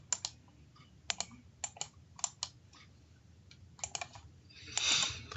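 Calculator keypad being pressed to enter figures for a time value of money problem: crisp, faint plastic key clicks in quick clusters, followed by a brief soft rustle at the end.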